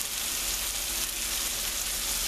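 Large mushroom pieces sautéing in a pan for veal stew Marengo, a steady hissing sizzle close up and without talk.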